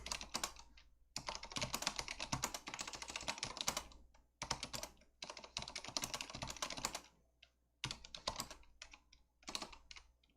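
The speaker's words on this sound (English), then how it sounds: "I am typing like garbage right now." Rapid, uneven clatter of keys on a computer keyboard, typed in several bursts separated by short pauses, close and fairly loud with no voices.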